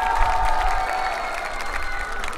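Concert crowd applauding and cheering after a performance at an outdoor peace concert in Goseong, a steady dense wash of clapping that holds fairly loud throughout.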